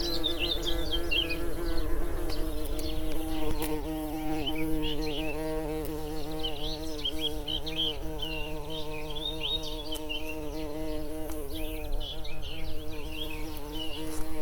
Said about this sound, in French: Les invertébrés sont au premier plan dans la pollinisation